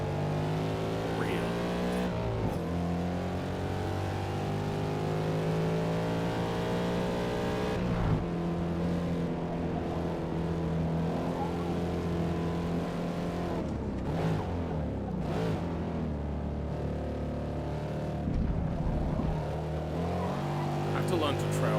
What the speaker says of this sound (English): One of the reasons why this doesn't feel like a Mustang is this engine just doesn't sound right.